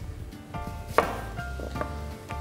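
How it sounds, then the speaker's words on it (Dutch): A knife chops shallots on a cutting board in a home kitchen, with a few sharp, close taps in an irregular rhythm, one louder strike standing out. "Dan gaan we nu de shallotten snijden."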